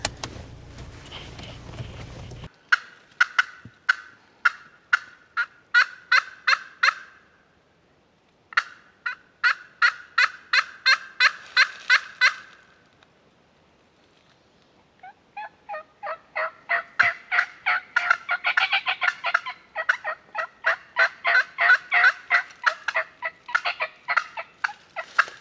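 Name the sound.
bird calling outdoors on public hunting land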